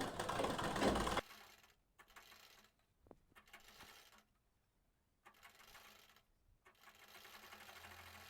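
Sewing machine stitching a blouse, heard in short bursts of close, rattling mechanical running separated by quiet pauses, with a louder noisy burst at the start; no talking.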